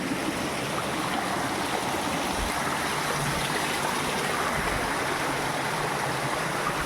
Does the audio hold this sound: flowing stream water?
yes